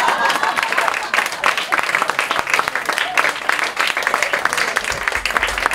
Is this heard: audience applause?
yes